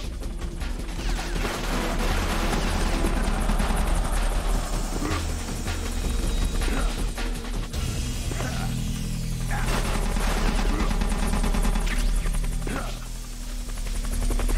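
Gunfire rattles behind Solid Snake as he rappels down a wall in Metal Gear Solid: The Twin Snakes, with bursts over a constant rotor-like hum and thick in-game noise throughout.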